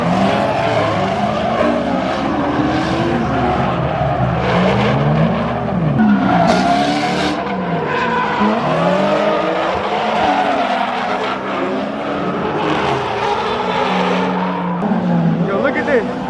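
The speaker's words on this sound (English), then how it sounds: "Here come the Mustang." A Ford Mustang revs and skids at a car show, its loud engine roar mixing with squealing tires and crowd noise throughout as spectators shout and talk over it.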